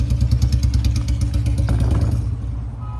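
A motorcycle engine chugging close by with a steady pulsing idle and light clatter, loud and near for a few seconds before easing off slightly.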